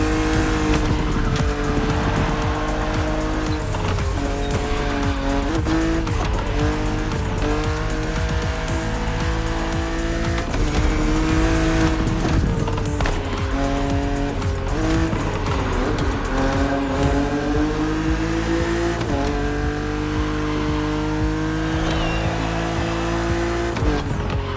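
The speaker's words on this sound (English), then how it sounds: "Your car is the Z4 E89, a very cool model for two major reasons." A BMW Z4 E89 coupe cabriolet drives in the racing game The Crew Motorfest, its engine roaring steadily with rising and falling revs and tire squeal throughout, loud and continuous, with no talking.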